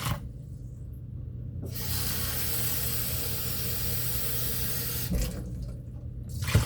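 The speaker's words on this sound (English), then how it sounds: "I got 3 cups of water on this rice right here" Water is poured close by in a steady splashing stream, interrupted by brief pauses, into a rice cooker holding rice.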